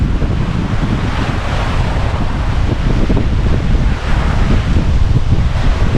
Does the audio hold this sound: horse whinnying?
no